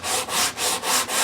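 A small scrub block sands the treble end of a guitar fingerboard in about five steady back-and-forth strokes, each a close, dry, raspy wooden rub with brief pauses between.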